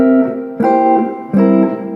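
A jazz guitar plays dominant drop 2 chords, three bright strummed chords about two-thirds of a second apart, each ringing on before the next. The sound is close and clear, with no talking.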